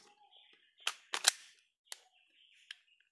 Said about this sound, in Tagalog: May mga putok talaga.